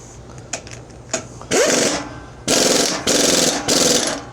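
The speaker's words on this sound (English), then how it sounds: "We're gonna hit her with the impact." Impact wrench tightening a nut on a Craftsman riding mower, loud close bursts: a short hit followed by three longer rattling runs in quick succession.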